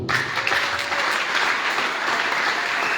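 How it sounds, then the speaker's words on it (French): A church congregation claps for Jesus during a worship service, with dense, sustained applause that stays loud and even throughout and no voices standing out. "On acclame pour Jésus."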